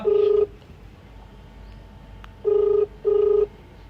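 A telephone ringback tone on an unanswered call, three steady beeps with pauses between, loud and close over a faint background hum.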